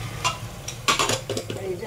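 Boiled vegetables being stirred into a well-fried masala in a pan, giving several close scraping, clattering strokes over a soft sizzle, brief and fairly loud.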